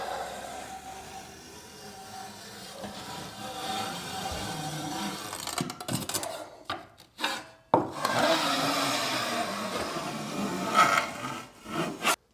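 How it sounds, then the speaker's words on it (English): A drywall knife scrapes and rubs along mesh tape in an inside drywall corner, a steady close-up rasping that runs in uneven strokes with brief pauses and a few sharper scuffs near the end. "So when I was trying to square it out with my knife, I was being gentle"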